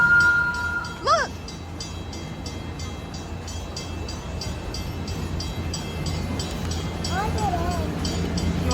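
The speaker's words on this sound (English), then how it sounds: "You want to get on the train?" A train rolls past at a theme park wildlife area, a steady rumble with rattling, repeated high whistle-horn notes sounding briefly near the start and again near the end, with a child's and adults' voices in the background.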